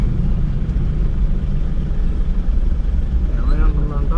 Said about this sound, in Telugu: ట్రాక్టర్లు ఏంట్రా బాబు ఇన్ని వస్తున్నాయి